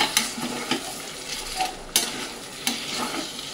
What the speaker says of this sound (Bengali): এবার ভেজে রাখা আলুটাও দিয়ে একটুখানি কষিয়ে নেব